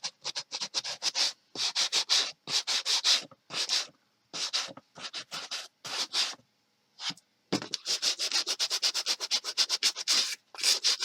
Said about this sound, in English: I go over the entire book with a sanding block